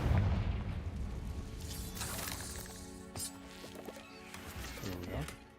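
Confringo fire spell blasts in Hogwarts Legacy: a loud booming burst at the start that rolls off into rumbling game sound, with a further punchy impact near the end and a voice speaking in between.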